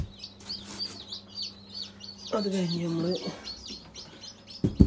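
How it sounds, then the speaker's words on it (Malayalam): Newly hatched chicken chicks in an egg-hatching setup chirp in quick, high, repeated peeps throughout. Someone talks over them partway through, and a brief knock sounds at the end. "കൂട് പൊട്ടിച്ചുകൊണ്ട് കുഞ്ഞുങ്ങൾ പുറത്ത് വരാൻ വേണ്ടി നിൽക്കുന്നുണ്ട്."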